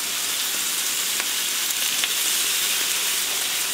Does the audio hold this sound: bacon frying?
yes